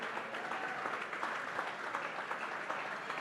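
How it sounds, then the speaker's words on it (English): Diners at a county political committee's spring dinner applaud elected officials, a continuous, evenly textured round of clapping from a roomful of people, heard from a short distance. "Give all of our elected officials, town officials, county officials, judicial officials a round of applause."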